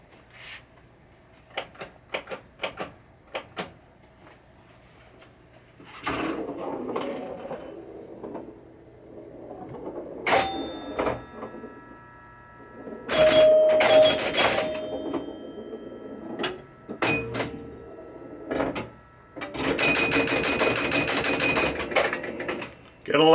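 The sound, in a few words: Skylab pinball machine playing, bonus count chimes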